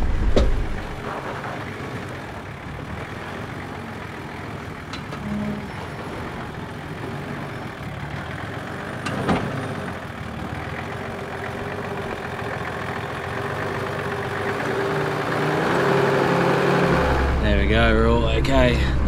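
A 4WD locked in first gear low range crawls down a steep, rough descent while towing a camper trailer. The engine drones low and steady, then swells into a louder, rougher roar near the end.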